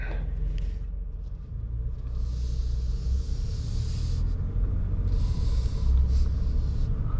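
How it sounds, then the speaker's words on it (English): A 2021 Ford F-150 XLT pickup truck drives along with a steady low engine and road rumble heard from inside the cab, fairly loud and continuous. "let's go ahead and take this F-150 for a spin."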